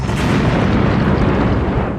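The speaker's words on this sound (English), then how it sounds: "We felt the explosion 5 blocks from there." Dynamite blows up in the 1991 creature film Alligator II: The Mutation with a single loud, sustained booming blast. The dense low rumble fills the whole moment and fades only at the very end.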